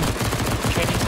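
Rapid automatic gunfire from the CSGO Zombie Escape video game rattles continuously at close range, dense and loud, as players fire on a boss.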